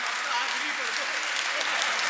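Audience applause at a Hindi poetry recital, a steady even wash of clapping with a voice speaking faintly under it.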